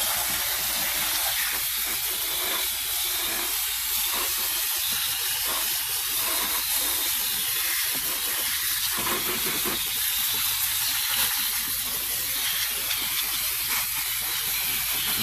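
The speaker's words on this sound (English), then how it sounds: "let's see how much I can spray off without doing the agitation" Engine cleaner and degreaser, an industrial 15:1 dilution, sprayed off an engine without agitation, making a steady, loud hiss of water spray that runs continuously and close throughout.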